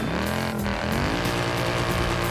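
A 6.2-litre V8 engine in a racing video game revs hard, a loud, close, continuous roar that dips briefly and then climbs again, with no voices.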